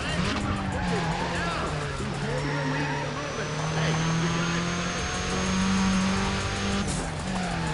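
A race car in Need for Speed: Pro Street screams along under NOS boost, its engine tone held high and steady with tire squeal, loud and close throughout.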